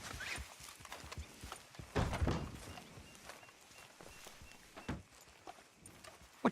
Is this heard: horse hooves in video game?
yes